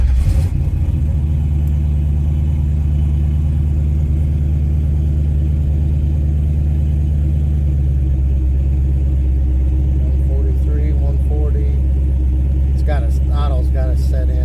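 A GM LS drive-by-cable engine idling, a loud steady low rumble with a stable hum throughout, close by, as someone talks over it near the end.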